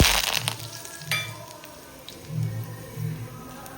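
Curry leaves dropped into hot oil, a sharp burst of crackling and sizzling that settles into a steady frying hiss with bubbling pulses, close and alone.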